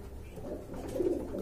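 White Danish pigeons coo in a low, continuous murmur through the whole moment, close by and steady, the soft throaty sound swelling slightly toward the end, with no talking over it.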